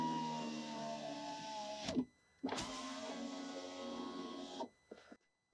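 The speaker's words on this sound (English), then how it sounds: "we'll go ahead and run the window up and down one more time" Electric rear window of a BMW E38 with a replaced regulator, whining steadily in one direction, stopping with a thunk, then running back the other way with another clunk at the end, close and alone.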